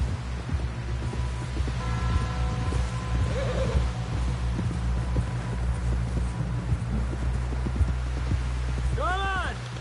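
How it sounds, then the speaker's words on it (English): Horse hooves clop steadily in Red Dead Redemption 2 against a constant low rumble of game ambience, with a horse snort and voices speaking over the ride. "Someone help John down off this horse."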